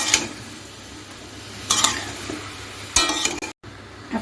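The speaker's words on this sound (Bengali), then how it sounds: "এখন নুনটা দিয়ে আমি ঝিঙেটা ভালো করে নেড়ে চেড়ে মিশিয়ে নিচ্ছি নুনের সাথে ঝিঙেটা" Ridge gourd being stirred with salt in a pan, three short scraping, clattering bursts of spoon against metal over a faint steady sizzle, close and alone.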